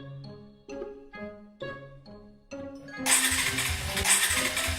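A motorcycle that seems to be misbehaving, heard first as a series of rhythmic starter cranks that catch into a loud, steady, rough-running engine, close by with no talk over it.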